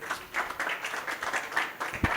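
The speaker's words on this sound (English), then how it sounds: "Please, a round of applause for him." An audience claps for a young man introduced at a motivational talk, a brief, steady burst of rhythmic applause from a modest crowd, moderately loud throughout.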